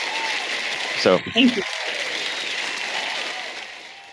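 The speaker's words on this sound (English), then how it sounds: "Sorry, I talked over your applause there, Jessica" Audience applause at the close of an interview chat, a steady wash of clapping running throughout while someone speaks briefly over it near the middle before it tapers off.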